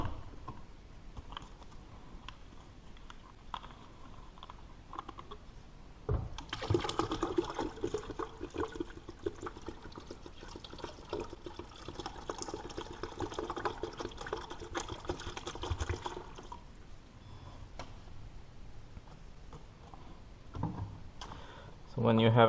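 Coolant from a Porsche Cayman cooling system poured through a fabric coffee filter, a steady soft trickling stream lasting about ten seconds, faint and close, with quieter handling noises before and after.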